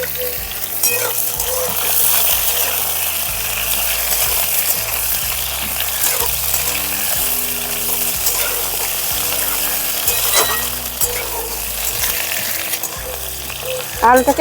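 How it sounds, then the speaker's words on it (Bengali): Long-cut potato strips frying in a pan for a potato and flat bean chachari, a loud continuous sizzle with repeated stirring scrapes and knocks close by. "দু মিনিটের মতন আলুগুলো ভেজে নিয়েছি হালকা লাল হয়ে গেছে"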